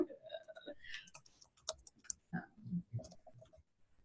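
Keys tap and a mouse clicks in quick irregular bursts on a computer, quiet and close, mixed with soft whispered talk.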